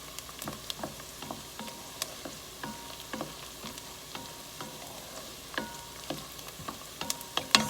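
Chopped onions sauté in a pan for broccoli cheese soup, a soft steady sizzle broken by intermittent clicks and scrapes of stirring, close and quiet.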